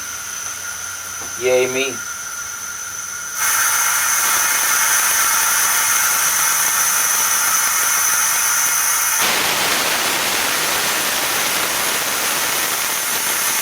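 Compressed air hisses out of a pressure pot in a loud, steady rush that swells sharply partway through, after a brief spoken exclamation.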